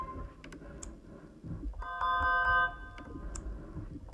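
A Hangouts ringtone plays from a BrailleNote Touch device, a brief bright chime pattern of several stacked tones lasting under a second amid low background noise and small clicks.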